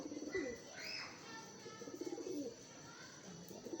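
Soft, low pigeon coos repeat close by against quiet background noise, with a few faint chirps mixed in.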